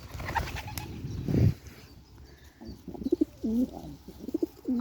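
Pigeons coo in soft repeated low phrases, close by, after a brief flurry of other bird sounds and a flap of wings.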